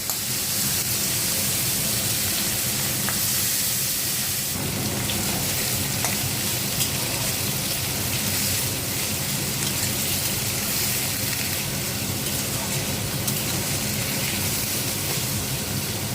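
Dried onions and whole spices (cinnamon, cloves, peppercorns, green cardamom) sizzling in hot oil for a Bengali red mutton curry, a steady dense crackle and hiss, close and continuous with no talk.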